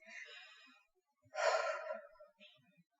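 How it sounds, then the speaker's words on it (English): Deep breathing sounds close and soft: a long breath, a pause, then a deeper, louder inhale-exhale, and a brief faint breath at the end. "You're taking deep breaths."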